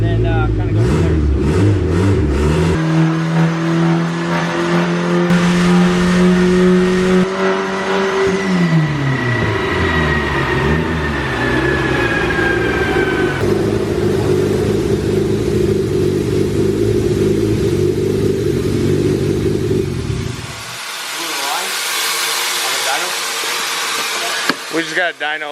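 An all-wheel-drive turbocharged Honda Civic wagon revs hard on a dyno, the engine note climbing and holding loud and close before cutting off abruptly near the end, followed by quieter whirring and hiss.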